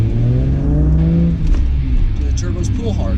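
A Toyota Supra turbo accelerates, its engine note rising steadily and loud throughout, with a voice talking over it.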